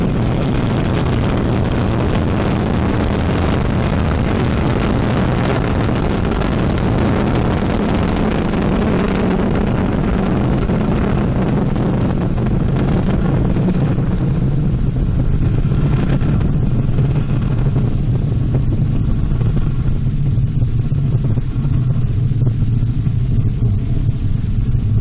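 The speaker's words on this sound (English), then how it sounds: "The roar of her engines, a lot of fire, and with BepiColombo on board" Ariane 5 rocket engines at the BepiColombo launch roaring as a continuous, loud broadband rumble with wind buffeting, sustained for the whole stretch without talk.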